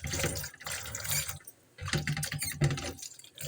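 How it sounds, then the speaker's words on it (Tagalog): Water runs and splashes at a leaking kitchen sink in short close bursts, with a brief lull partway through and no talk over it. "May leak ang aming lababo."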